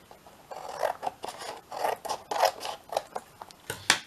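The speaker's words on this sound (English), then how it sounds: "Let's just cut that piece off." Scissors snip repeatedly through a scrap of paper for a Christmas pouch, giving close, crisp cutting strokes in an uneven rhythm with no voices.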